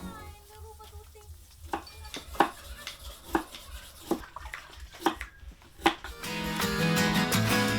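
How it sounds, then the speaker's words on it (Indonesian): A knife chops young coconut palm heart into thick slices, with about ten sharp, close strokes at an even pace, followed by a louder washing or clattering noise near the end. "Umbut kelapa ini dipotong tipis tebal 2 cm saja"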